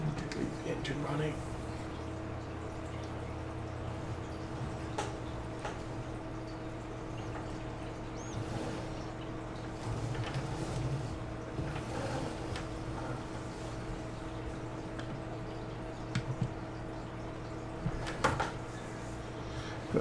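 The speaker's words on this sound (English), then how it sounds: "Leave the engine running." Tractor engine idling steadily in Farming Simulator 22, the Deutz used for field work on Maypole Farm, a constant low drone with a few faint clunks running throughout.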